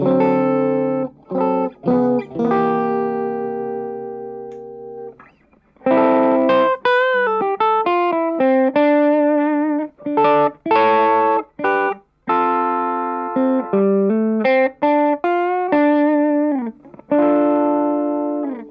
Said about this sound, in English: these are the kind of tones that in a mix might come across as being clean, even though they are slightly overdriven